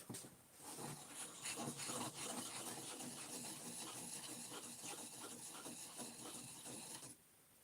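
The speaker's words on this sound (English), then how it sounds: "Need to sand that block down only that much." A wooden block is sanded down by hand during woodworking, giving a steady, close, gritty rubbing and rasping that runs for about seven seconds and then stops abruptly.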